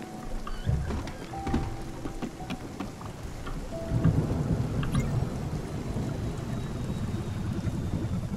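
Steady rainfall with deep rumbles of thunder in the Spiritfarer video game, a continuous wash of rain with a louder rolling swell partway through.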